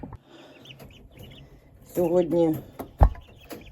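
Week-old turkey poults, Big-6 breed, cluck and peep amid farm background noise, with a voice speaking briefly and a sudden loud thump near the end.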